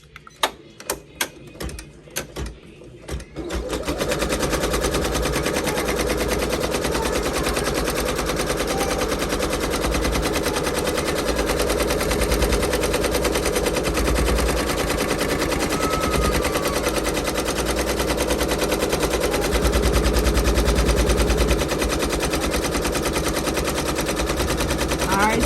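An embroidery machine stitches an elf sweater design, starting with a few sparse clicks and then settling into a long, steady, rapid mechanical chatter, loud and close throughout.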